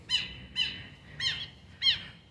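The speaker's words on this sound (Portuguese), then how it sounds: "Passarinho ali." A small bird in a park in Frutal, Minas Gerais, gives four sharp, high squawking calls in an uneven rhythm. The calls are fairly clear against a quiet outdoor background with no talking.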